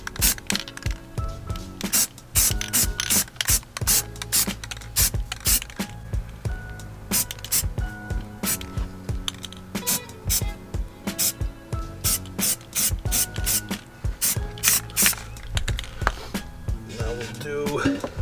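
A spray paint can hisses in short repeated bursts while a second, heavier coat goes onto stock Subaru STI wheels, close up and loud, with brief handling noises between passes.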